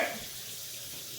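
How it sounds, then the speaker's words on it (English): Water running from a tap over hands being rinsed in a kitchen: a brief, soft, steady splash and hiss, fairly close, with no talk. "I'm going to rinse them off, you know."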